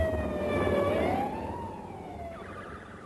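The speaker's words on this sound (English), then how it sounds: "quickly ran into a barrage of police sirens clearly intended to silence him" Police sirens during the 1990 Strangeways prison riot wail with rising and falling tones, fairly close, overlapping one another amid background traffic noise.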